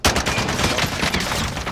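Gunfire in Call of Duty Warzone, a brief loud rapid burst of automatic shots crackling close by without pause.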